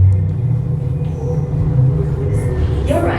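Steady low rumble of the Space 220 space elevator ride at Epcot, a continuous loud vibration with brief higher whooshes near the end, while a voice speaks faintly over it.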